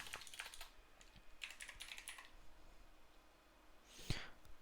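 Soft, rapid typing on a computer keyboard while Discord bot code is entered, in brief clusters of quiet clicks with a pause before a final sharper keystroke, faint and close with background hiss.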